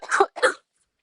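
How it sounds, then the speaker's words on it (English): Two quick, close coughs from a person with a lingering post-COVID cough during a live watercolor painting session, loud and near, followed by silence. "That cough just doesn't want to leave."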